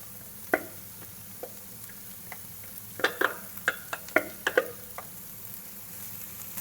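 Grated carrots being stirred into sautéed onion and garlic in a pan, with a soft steady sizzle under a series of sharp utensil scrapes and taps clustered mid-way, close and fairly quiet, no talking.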